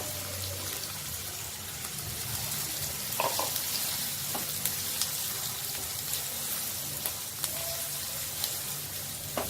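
Chopped onion added to hot oil with cumin seeds fries with a loud, dense, continuous sizzle, broken by occasional stirring clicks and scrapes from the pan, close up and without talk.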